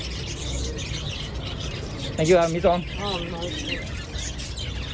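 Java sparrows in a pet shop give a short burst of bright, chirping calls, mid-distance, under and between people talking in a busy shop.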